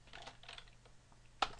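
Quiet, scattered clicks of typing on a computer keyboard while writing Python GTK code, a few soft keystrokes followed by one sharper, louder tap near the end.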